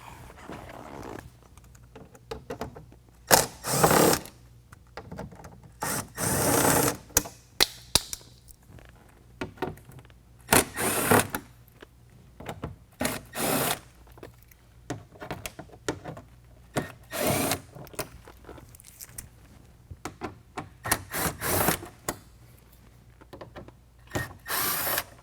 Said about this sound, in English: remove 7 of the factory fasteners using a 7mm